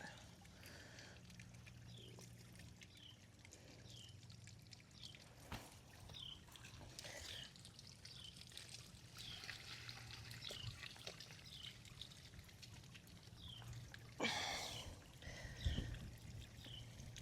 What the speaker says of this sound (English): Just sitting in water. Let's see if we can't dump it out.